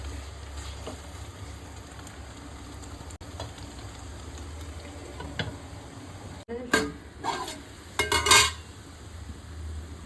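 Chicken partly cooking in the onion-frying kadai for Telugu-style Mughlai chicken biryani, giving a low steady sizzle with a few louder clinks and stirring scrapes near the end.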